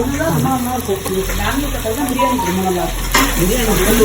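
Tomatoes sizzle and bubble in a pot as biryani is cooked, a steady frying crackle with intermittent stirring scrapes, close and continuous, with no talk.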